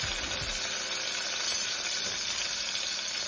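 Chopped tomatoes sauté in a pan with browned onions, a continuous soft hiss of frying that holds an even level throughout with no talking.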